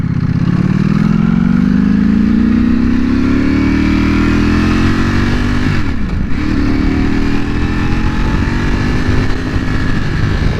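A 2020 Ducati Panigale V4 R rides in first gear, its loud, close engine note rising steadily, dipping briefly at a throttle change, then climbing again under continuous wind rush.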